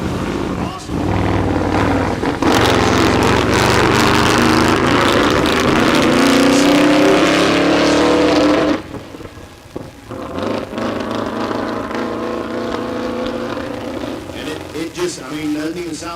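A drag racing car's V8 engine, apparently not firing on all eight cylinders, roars loud and rough for about eight seconds before dropping to a quieter, uneven rumble, with a voice talking over it.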